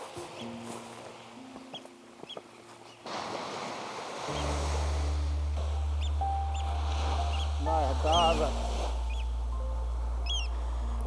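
Ocean surf rolls steadily along a Lapland shoreline, the broad wash swelling partway through, with wind buffeting the microphone, a deep low rumble underneath and faint bird calls scattered above.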